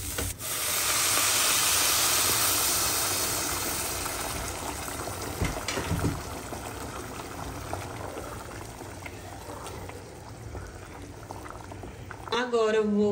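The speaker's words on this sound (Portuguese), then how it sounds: "a gente coloca a água pra refogar, né? Pra cozinhar" Water poured into a pan of rice with wine already cooked off, then hissing and bubbling as it simmers: a loud rush and sizzle at first that settles into a steady boil, with a brief clatter near the end.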